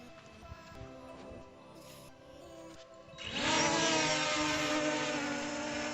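Quiet whirring at first, then a small, inexpensive drone's propellers spin up into a loud, high buzzing whine that holds steady nearby in the middle of a field.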